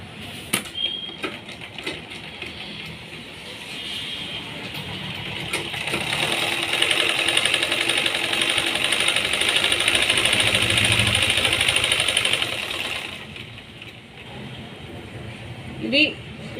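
A sewing machine runs a long stitch along a dabba neck blouse design, a steady mechanical whirr that swells and holds before slowing to a stop, with a few clicks of handling at the start and end.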